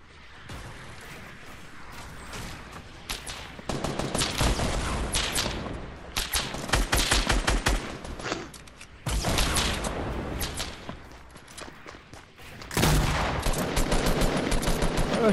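Rapid bursts of automatic gunfire ring out in a shooter video game, loud and close, coming in several long sustained volleys separated by brief quieter gaps.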